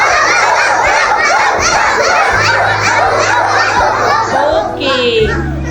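Children imitate a dog's bark together in a quick, repeated chorus of short yelps, mixed with giggles and laughter close by.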